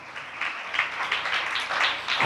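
A church congregation claps hands in thanks to the Lord, a steady, dense patter of many hands with no speech over it.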